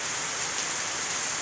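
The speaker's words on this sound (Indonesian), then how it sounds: "Ini angin heap-heap disertai dengan hujan guys." Heavy rain with strong wind in Patia makes a dense, steady hiss of rain beating on surfaces, unbroken and loud for a brief moment.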